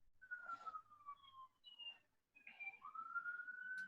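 A police siren passes by a few blocks from a hospital, its wailing tone sliding down, pausing, then rising again at moderate distance with no talk over it.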